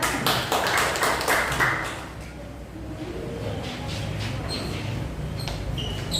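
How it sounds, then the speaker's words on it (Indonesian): Students in a classroom clap together for a group that has just finished presenting, a burst of scattered hand claps over the first two seconds that then fades into low room noise with a few faint taps. "Oke, tepuk tangan ya."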